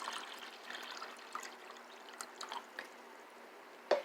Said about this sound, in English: So I'm just going to go ahead and add a little bit more cold water to the top.